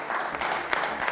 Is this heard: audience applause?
yes